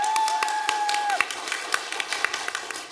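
Audience applause for an author at a library book concert: a steady burst of many hands clapping at close range, with a brief tonal tone sounding in the first second.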